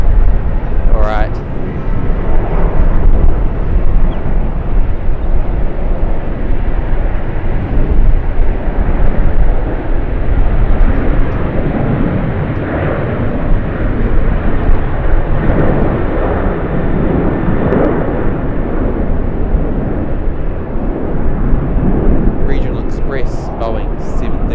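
A jet airliner at Sydney Airport, a Boeing 737-800 or Airbus A321neo, gives a loud sustained engine roar for the whole stretch, with people talking over it.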